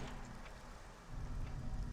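Rain falls in a Resident Evil game, a steady dense hiss that swells louder toward the end.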